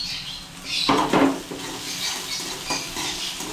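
Garlic, ginger and cumin lightly frying in a pan with a spatula clanking against the metal, a burst of sizzle and scraping strokes up close, then a softer ongoing sizzle.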